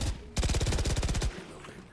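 Toy pellet gun firing a rapid burst of about a dozen sharp pops in quick succession, loud and close, followed by a brief quieter tail.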